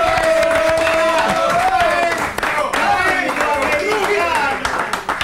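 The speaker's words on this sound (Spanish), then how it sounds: "Voy a pedir un fuerte aplauso para Evaristo Hurtado," A studio audience on the Mar de Fondo television show claps and cheers for guest Evaristo Hurtado, a loud, dense wash of applause with voices calling out over it, gradually thinning toward the end.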